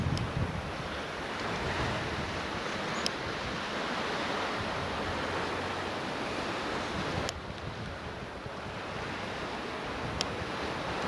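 Constant hiss of waves and gusting wind at Watchet Harbour in mid-November, a broad steady wash with wind buffeting the microphone and a few faint sharp clicks.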